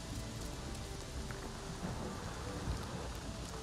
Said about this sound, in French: Attends, ça rigole pas l'orage.